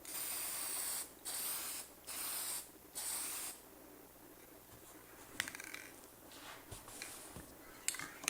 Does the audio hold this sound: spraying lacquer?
yes